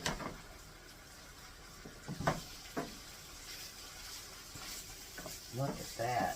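Sliced mushrooms sizzle gently in a frying pan while a utensil stirs and scrapes through them, a low steady hiss broken by a few short clinks and scrapes.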